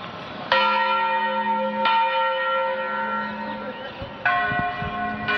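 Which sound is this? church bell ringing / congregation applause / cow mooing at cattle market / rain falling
church bell ringing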